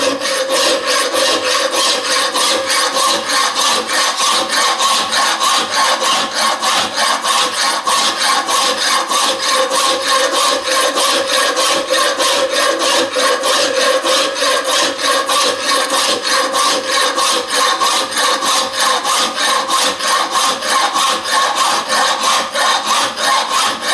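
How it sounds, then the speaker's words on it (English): A flat file works a steel locomotive boiler-band lug clamped in a vise, with loud, fast, even rasping strokes repeating steadily and close up for the whole stretch, no voices. "I'm just going to use my flat file"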